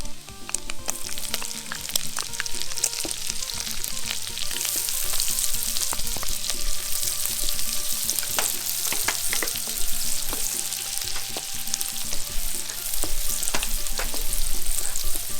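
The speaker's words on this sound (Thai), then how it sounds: "ผัดพอให้หอมหัวใหญ่พอใสๆดีนะคะ" Steady loud sizzling of onion frying in a hot pan for shrimp fried rice, with occasional scraping as it is stirred, continuing throughout.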